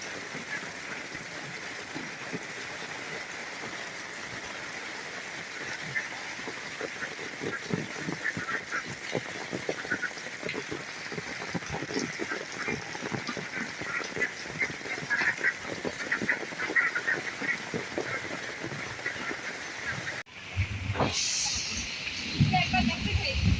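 A flock of domestic ducks quacks and honks continuously nearby on a rainy day, with people talking and calling over the noisy birds.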